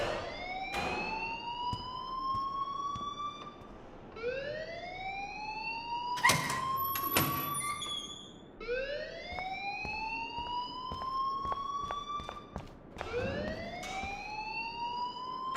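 A wailing electronic alarm sounds in a school hallway in the video game Life is Strange, rising and sweeping in repeated whoops roughly every three seconds, loud and alone, with sharp clanks and thuds breaking in midway.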